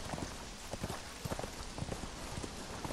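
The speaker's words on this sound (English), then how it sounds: "Well, it's raining, typically." Rain falls in the video game Conan Exiles as a steady, dense hiss of drops with scattered light taps and patters running through the whole stretch.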